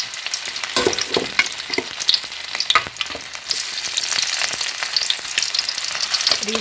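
Siomai dumplings frying in a pan over low heat, giving a steady crackling sizzle with sharper pops and spatters throughout, close and fairly loud, with no talking.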